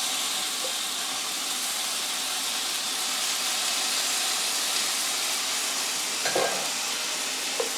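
A steak sears in a hot pan, giving off a loud, steady sizzle and hiss throughout, with a brief clatter near the end.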